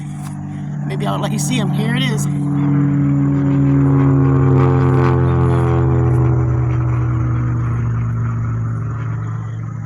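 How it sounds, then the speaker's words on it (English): A steady low engine drone of an airplane passing overhead a fall vegetable garden, rising and fading over several seconds, while a person speaks briefly over it. "I hear an airplane above us."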